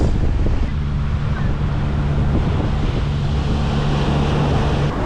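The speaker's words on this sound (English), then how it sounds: "a big wave comes in and slams up against that rock" Ocean surf at a sunny beach along the Camino de Santiago, a loud continuous roar of waves with heavy wind rumble on the microphone and a faint steady hum underneath.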